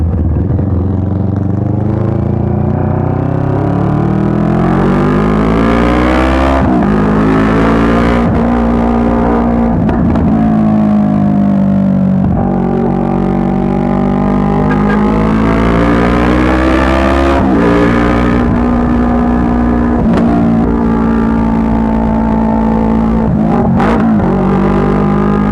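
A CFMOTO NK400 motorcycle engine on an expressway ride, loud and close, climbing repeatedly through the revs with brief dips at each gear change and wind rush throughout, no talk.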